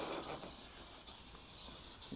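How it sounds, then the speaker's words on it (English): A steady hiss from a can of silicone spray aimed at a bike runs continuously, close by, with brief pauses and slight changes in intensity. "it's only silicone spray, so you're not going to do your bike any damage whatsoever"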